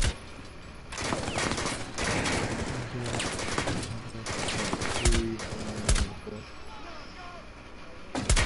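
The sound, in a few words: sniper rifle shots in a video game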